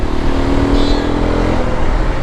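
A Hero XPulse 210 motorcycle engine runs steadily throughout with a low, continuous hum and a faint higher whine, fairly close and loud, with no pauses.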